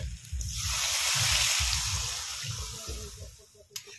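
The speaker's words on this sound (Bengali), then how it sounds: "এবারে জল দিয়ে দিচ্ছি" Water pours steadily into a pot of yam (mete alu) curry, a broad continuous splashing rush that swells and then tapers near the end, close and fairly loud with no talk.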